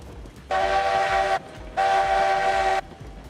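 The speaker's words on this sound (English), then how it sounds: "But you can quite hear me sound my whistle there." Two long blasts of a video game train whistle, each about a second, sounding loud and steady over a low rumbling background, with a short gap between them.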